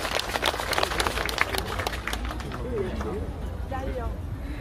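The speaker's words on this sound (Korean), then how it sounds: "네, 큰 박수 부탁드릴게요" An audience at a saxophone competition breaks into a burst of clapping that thins out over a few seconds while voices talk over it.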